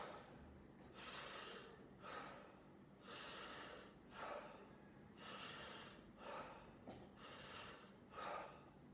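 Breaths during a breathing exercise, close and quiet, repeating in a regular rhythm of short airy rushes with brief pauses between them, about seven in a row and no speech.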